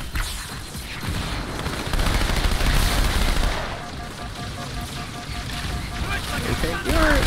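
SMG bursts rattle off in Halo 2 campaign combat, short dense volleys of gunfire layered with explosions and clatter, loud and continuous, while someone talks over the shooting.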